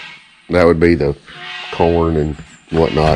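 Farm goats bleat loudly and repeatedly nearby, their wavering calls coming in several bursts between and over a man's speech.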